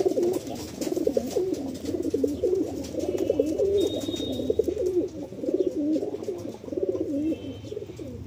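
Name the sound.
pigeons cooing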